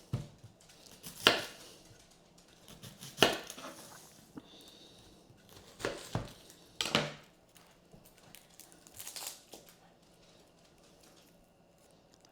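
A knife cuts a small onion on a board in a home kitchen, giving a few sharp, separate chops spaced a second or two apart, close and fairly loud, with quiet gaps and softer taps between them.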